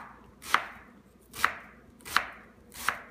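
A knife cuts portobello mushrooms into quarter-inch slices on a board, four crisp, evenly spaced chops close by with quiet gaps between them.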